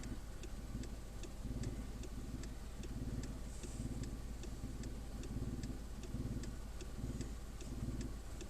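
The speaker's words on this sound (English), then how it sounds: "I'm just going to leave the engine running" A car engine idles steadily at the scene of a car fire in County Donegal, a low, even rumble with a faint regular ticking over it, continuous and moderately distant.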